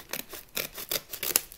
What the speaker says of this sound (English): Let me just grab my scissors here and just cut it open.